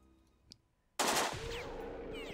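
Gunfire from a scoped rifle in the video game Jagged Alliance 2: after a quiet second, a loud, sharp blast hits and leaves a sustained ringing, rumbling tail.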